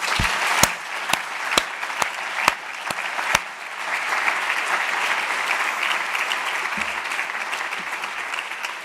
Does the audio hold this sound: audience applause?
yes